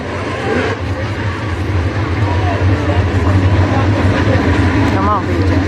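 Race car engine at the start of a race at Oakshade, a loud, steady, low droning roar with a few rising revs toward the end, close up and continuous, with talk under the noise.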